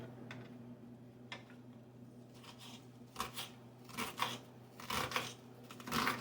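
A knife chops onion finely for meatloaf on a cutting board, giving a series of soft, uneven taps and cuts that grow more frequent over a steady low hum.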